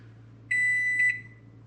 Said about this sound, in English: the timer is about to go off for our 10 minutes